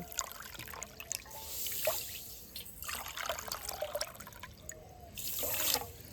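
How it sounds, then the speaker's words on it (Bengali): Water trickles and splashes into a pot of sugar to make syrup for rasgulla. The pouring is soft and uneven, rising and fading in short bursts. "এক বাটি চিনি দিয়ে দেব আর পাঁচশো গ্রাম জল দিয়ে দেব"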